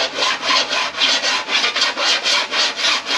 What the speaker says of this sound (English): I'll kind of grind this a little bit